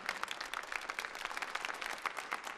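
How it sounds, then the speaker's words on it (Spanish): Faint, fairly distant applause from a church audience honoring the pastors, a soft patter of many hands clapping in a brief continuous burst. "¿Les podemos dar un aplauso a los pastores de la casa,"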